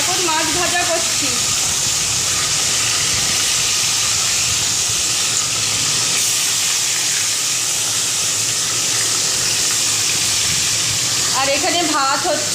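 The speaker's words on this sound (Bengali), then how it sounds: "এখন মাছ ভাজা করছি।" Fish sizzles in hot oil in a home kitchen, a steady loud frying hiss that runs throughout, with brief voices at the start and end.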